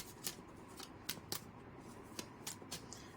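Tarot cards drawn one by one from a deck give a string of crisp, papery flicks and snaps, about ten short bursts spaced unevenly, close up, over a quiet background with no talking.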